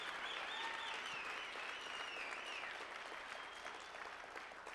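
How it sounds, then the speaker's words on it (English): An audience gives Dr. Nagasawa a tremendous round of applause at a motivational seminar, with dense sustained clapping at a fairly even level throughout. "give him a tremendous round of applause"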